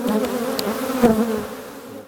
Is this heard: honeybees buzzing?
yes